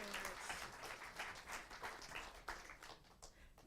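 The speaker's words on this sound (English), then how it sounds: "a round of applause for Yersalam," Audience applause for a poet at a poetry and music event, a steady wash of clapping that carries on without a break from start to finish.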